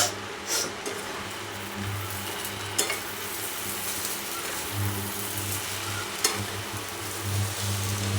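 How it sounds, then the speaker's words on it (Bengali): Rice stirred in a frying pan gives a steady sizzle under repeated scraping stir strokes, close and moderately loud, with no talking. "আরেকটু চাল আমি অ্যাড করে দিচ্ছি,"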